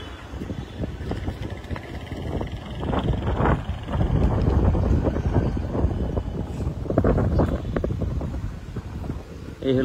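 Gusty wind blows along a newly built riverside walkway beside a clear-water river in Chunarughat, a loud continuous rumble buffeting the microphone that swells through the middle and stays strong to the end.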